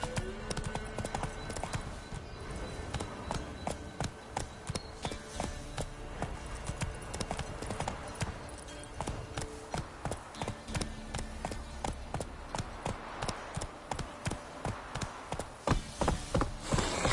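A horse in The Witcher 3 galloping, with a rapid, steady clip-clop of hooves close by that runs continuously for the whole stretch, without speech.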